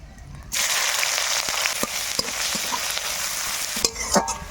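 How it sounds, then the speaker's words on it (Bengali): Chopped onions dropped into hot oil with dried red chillies, cumin and bay leaves, the sizzle surging loudly after a quiet start, then continuing close by with spatula knocks and stirring scrapes. "এবার কেটে রাখা পেঁয়াজ দিয়ে দেবো"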